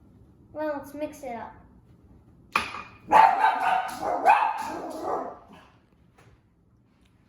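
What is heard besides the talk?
dog barking at a squirrel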